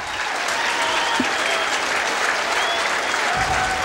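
A stadium crowd of more than 12,000 applauds at the end of an NCAA men's lacrosse game, Syracuse against UMass, in 1989. The clapping is loud, dense and sustained throughout, with a faint murmur of voices mixed in.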